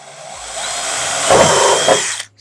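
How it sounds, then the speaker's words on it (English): A power drill bores a pilot hole through the hood of a Subaru STI, giving a loud, steady whine that grows as the bit bites into the panel, then stops abruptly. "Now we can hit with a drill bit."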